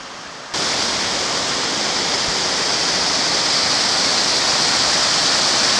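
Rushing water at Big Springs in the Narrows canyon beneath huge cliffs, a steady loud broadband roar that swells in abruptly after a brief quieter moment and then holds constant throughout.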